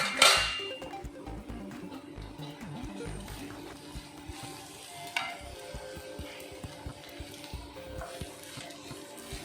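Onions and okra fry in a covered pan with a steady soft sizzle, broken by a sharp clatter at the start and light scraping and stirring clicks of utensil against pan throughout.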